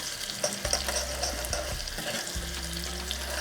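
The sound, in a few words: garlic and chili frying in ghee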